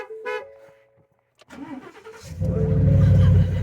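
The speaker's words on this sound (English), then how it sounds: "I honk the truck 3 times and start it up." A truck's horn toots, then its engine cranks and catches, settling into a loud, steady idle up close.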